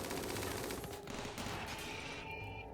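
Rapid automatic gunfire aimed at a giant centipede in the sci-fi video game Europa, a dense continuous burst of shots running loud and unbroken through the whole stretch with no talking.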